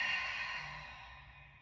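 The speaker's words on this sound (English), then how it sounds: "Exhale, let it all go." A deep, soft exhale flows out as a single breathy sigh, starting fullest and fading gradually, close and quiet.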